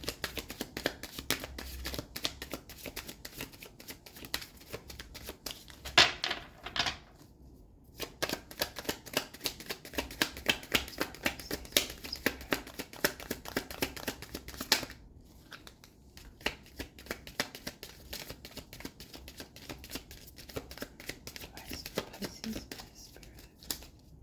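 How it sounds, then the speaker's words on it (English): Tarot cards being shuffled by hand in a steady, close run of riffling and sliding taps, with a couple of brief pauses and a quiet voice speaking over parts of it. "So first I'm going to pull a couple cards for advice."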